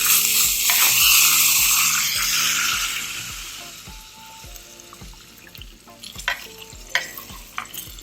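A fried fenugreek tempering is poured into buttermilk with a loud burst of sizzle that fades over a few seconds, followed by scattered clinks and scrapes as it is stirred in, over faint background music.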